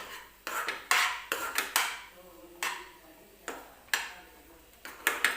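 A spoon scrapes and knocks against a metal pan while upma is mixed with salt, giving irregular clinks and taps separated by short scraping strokes, close and moderately quiet.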